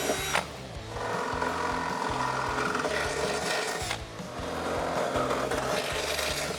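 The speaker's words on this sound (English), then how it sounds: "you can go ahead and start drilling 2 holes" A drill bores through metal with a steady, close, grinding whir, pausing briefly and starting again while holes are cut for a 2018 Mustang GT Roush axle-back exhaust install.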